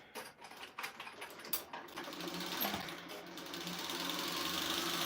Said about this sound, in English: I am going to go ahead and sew this center part